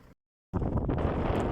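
Strong mountain wind in the Bolkar Mountains of the Taurus range, Mersin, buffets the microphone with loud rumbling roar after a brief silent gap, continuous and gusty throughout.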